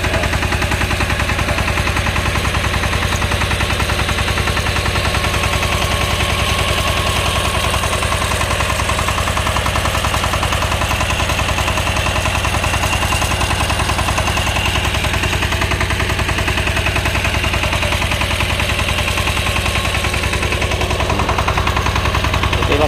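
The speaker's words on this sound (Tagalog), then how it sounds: "Ito yung tinatawag ng centrifugal pump" A centrifugal pump drives drip irrigation on a corn farm, giving off a loud, unbroken mechanical drone with fast rattling pulses that stays steady from start to finish.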